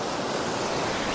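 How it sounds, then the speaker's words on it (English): Ocean surf on a Nova Scotia shore: a broad, continuous wash of breaking water fills the short stretch at steady loudness, with no talking over it. "Oh, look at this beautiful wave."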